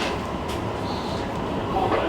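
A train rumbles steadily across the Long Ravine Trestle above an interstate, a continuous low rolling noise at moderate level with no talk.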